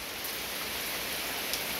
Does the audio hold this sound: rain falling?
yes